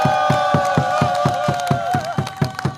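A crowd at the Gimcheon candlelight rally against THAAD deployment claps in a steady, even rhythm, about eleven beats, with cheering voices and sustained shouting tones riding over the claps, loud and close.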